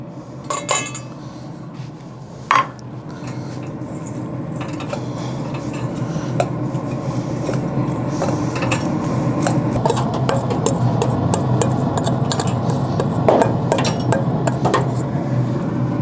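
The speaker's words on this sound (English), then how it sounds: "I will mix it with the parsley and the breadcrumbs" Melted butter being stirred into chopped parsley and breadcrumbs for a creamy crawfish rice casserole, a steady scraping and clinking of a utensil against a bowl with a few sharp knocks, no talking.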